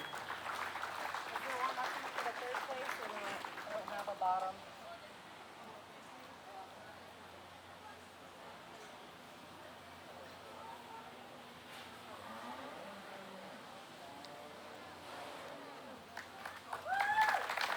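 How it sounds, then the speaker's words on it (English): Crowd applause at a county beef breeding show, loud clapping at first that settles into a softer, sustained patter, with speech rising again near the end. "let's give these young people a round of applause"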